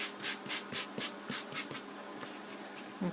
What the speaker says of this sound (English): And I'm just lightly sanding it.